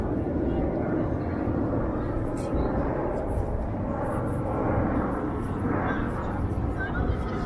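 A fixed-wing airplane drones steadily overhead above York University's campus in Toronto, a broad continuous rumble that fills the whole stretch without breaks.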